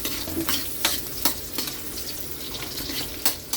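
Onion and garlic sautéing in a pan, a steady soft sizzle broken by repeated scraping stir strokes at an irregular rhythm, close and moderately loud with no voices.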